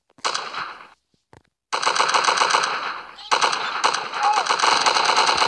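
Assault rifle fire in a video game shooter, heard as loud, dense bursts of rapid automatic shots that fill most of the clip, broken by a short pause with a couple of isolated shots before the firing resumes.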